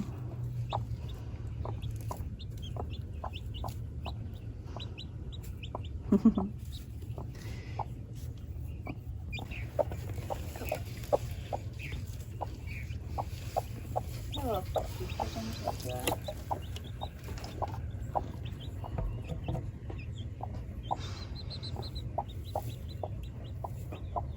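A silkie hen clucks softly and repeatedly beside her newly hatched chick, with faint, thin peeps mixed in over a low, steady background hum. The calls are close and irregular, and no one speaks.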